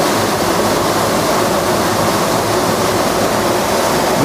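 Water pours over an old canal structure at a century-old site in Punjab, Pakistan. It makes a loud, steady, close rushing roar that fills the whole moment without a break.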